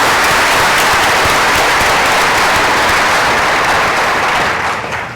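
A large audience at a women's leadership forum breaks into loud, sustained applause, a thick continuous wash of clapping that fills the room and begins to ease off at the very end.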